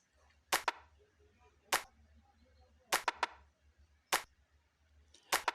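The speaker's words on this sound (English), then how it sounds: "I made soft snares using just claps." Soft clap-based snare hits land in a sparse R&B beat, sharp bright claps spaced unevenly with a low kick pulse thudding quietly underneath throughout.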